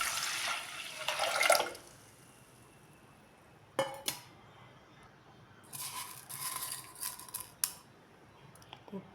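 Water splashes into a metal pressure cooker holding washed rice and split moong dal in a short pour, followed by a sharp clink and a few brief rustling, clattering kitchen sounds.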